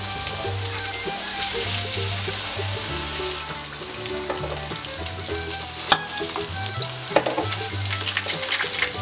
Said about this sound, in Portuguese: E depois que o óleo estiver bem quente, eu vou fritar as tirinhas dos dois lados.